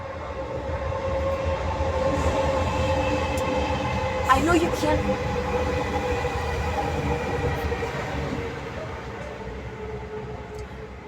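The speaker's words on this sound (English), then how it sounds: "it still pisses me off when the cars pass and when the train passes" A train rumbles past close by, a broad, sustained roar of rolling wagons with a brief metallic wheel squeal midway, fading slightly toward the end, while a person speaks briefly over it.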